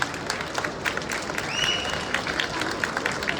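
Audience applause at a film event for a Tovino Thomas movie: steady, dense clapping from a crowd, loud and continuous for the whole stretch, with a brief whistle-like tone partway through.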